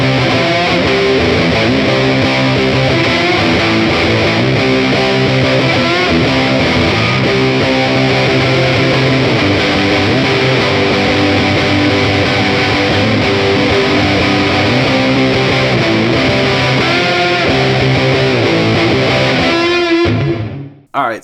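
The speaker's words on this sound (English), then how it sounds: "let's try that with the reverb dialed all the way back for that gated reverb sound" Electric guitar played through a Catalinbread Softfocus reverb pedal with the reverb turned fully back for a gated effect, giving a loud, continuous sustained chordal wash that cuts off abruptly at the end.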